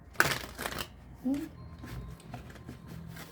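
A deck of tarot cards shuffled by hand up close, with quick riffling bursts and soft slaps at the start, then quieter intermittent shuffling.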